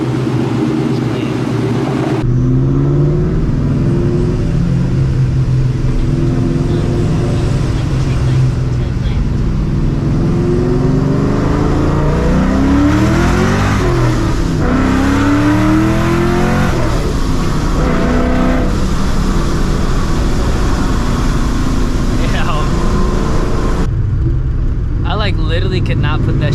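A 1998 Ford Mustang Cobra engine rumbles and revs while driving, loud and close, with a speaking voice over the steady engine drone and rising and falling revs.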